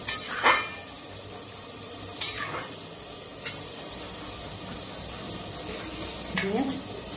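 Fried prawns go into simmering gravy in a pan over low gas: a few sharp clinks and splashes stand out over a steady soft hiss of bubbling liquid.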